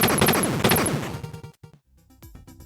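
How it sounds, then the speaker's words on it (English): Rapid chiptune gunfire from Batman shooting in the NES Batman game, a dense burst of repeated blasts over busy music that thins out, drops briefly to near silence, then returns with scattered quieter effects. "You start firing right in front of you."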